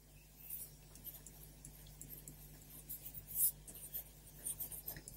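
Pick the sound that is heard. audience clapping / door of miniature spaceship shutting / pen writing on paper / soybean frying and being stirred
pen writing on paper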